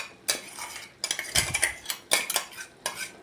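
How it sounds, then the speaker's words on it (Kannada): A metal spoon scrapes a paste of cashews, chilies and curd out of a container into a hot pan, giving sharp, close clinks and scrapes in several quick bursts. "ಒಂದು ಸ್ಪೂನಿನಿಂದ ಹಿಂಗೆ ಎಳ್ಕೊಂಡ್ರಿ ಅಂದ್ರೆ ಎಲ್ಲ ನೀಟಾಗಿ ಬಂದುಬಿಡ್ತೈತೆ ರೀ"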